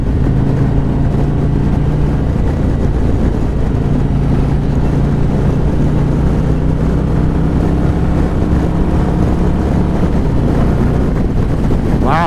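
A 2024 Harley-Davidson Road Glide or Street Glide with a 117 engine pulls hard in fourth gear on a ride, a loud, steady low engine drone thickly mixed with constant wind rush at the microphone.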